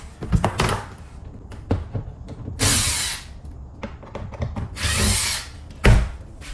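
A power drill removes two screws that held a cable in place, with two short whirring bursts of the drill between knocks and handling clatter, close by and fairly loud.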